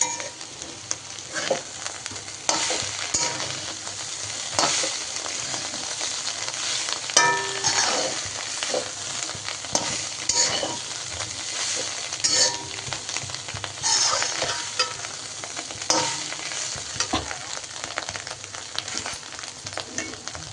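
Oil bubbles and sizzles steadily as cauliflower fries in a pan for a Tamil cauliflower fry, with occasional clinks and stirring scrapes over a continuous crackling hiss, no voices.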